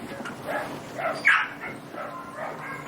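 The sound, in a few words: puppy yipping while being weighed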